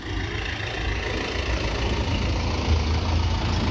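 A Punjab-registered 1995-model tractor idles at the Moga tractor market, a steady, loud, close diesel rumble with a low knocking throb and no voices.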